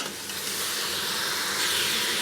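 Mutton being browned with ginger garlic paste for a traditional qorma gives off a steady, close hiss of sizzling and steam that runs unbroken through the short stretch, with no talk.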